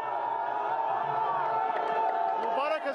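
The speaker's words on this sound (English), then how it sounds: "The crowd erupts in joy" Crowd of Egyptians cheering outside the courtroom at the Mubarak trial, a dense roar of many voices with whoops and shouts, sustained and fairly close throughout.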